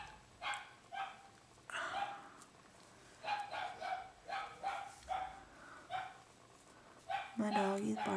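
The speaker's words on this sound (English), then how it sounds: "My dog is barking." A dog barks repeatedly in short, sharp yaps somewhat in the background, spaced out over several seconds, mixed with a person's voice.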